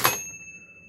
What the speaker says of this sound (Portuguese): Esse tipo de sino aqui era muito usado em ritual, tanto na Igreja Católica como também no Candomblé.